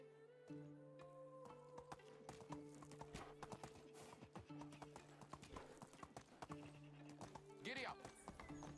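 A horse's hoofbeats in the Medieval Dynasty video game clop in a steady riding rhythm over a low looping music bed, with a whinny partway through and a voice speaking briefly.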